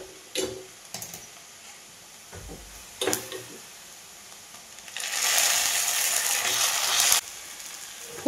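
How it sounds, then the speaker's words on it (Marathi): Cooked tomatoes tipped into hot phodni tempering for chakulya with moong dal, a loud steady sizzle lasting a couple of seconds after a few scattered clinks and taps. "ह्यात जे मी टोमॅटो घातलं होतं ते मी आता ह्याच्या फोडणीमध्ये टाकून घेणार आहे"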